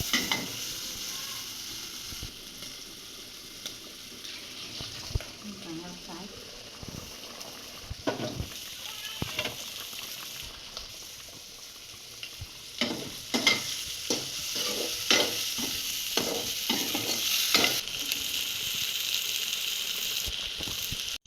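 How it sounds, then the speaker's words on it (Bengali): Shrimp fries in hot oil with chopped onion and turmeric, giving a steady, soft sizzle throughout, punctuated by frequent scraping and clinking stirs of a utensil against the pan that grow busier toward the end. "দেখছি তেল দিয়ে দিচ্ছে পেঁয়াজ কুচি, তারপর চিংড়ি মাছ, হলুদ দিয়ে চিংড়ি মাছ দিয়ে দিচ্ছে।"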